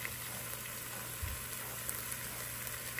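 Fish, previously stewed as paksiw, frying in butter in a pan, a faint steady sizzle and crackle with a soft thump partway through.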